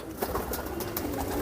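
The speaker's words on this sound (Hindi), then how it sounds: "ये देख रहे थे आप नायाब कबूतर पुरानी नस्लों के" Old-breed high flyer pigeons give soft, intermittent coos within a steady, noisy background wash that carries on for the whole moment.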